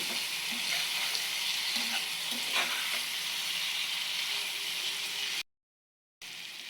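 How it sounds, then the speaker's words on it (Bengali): Prawn heads fry in spice paste, a steady close sizzle with faint scraping as the mixture is stirred, cutting to silence briefly before the sizzling resumes. "দিয়ে দেবো চিংড়ি মাছের মাথাগুলো, দিয়ে আবারও ভালো করে কষিয়ে নেব।"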